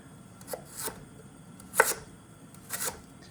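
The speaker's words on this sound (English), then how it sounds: "Now, I typically chop the celery." Knife chopping celery on a board, four or five crisp separate cuts spaced unevenly, faint and close with quiet gaps between.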